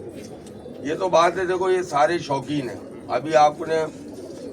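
Gola pigeons at a rooftop loft coo in soft, repeated throaty phrases beneath a man's close, continuous talk.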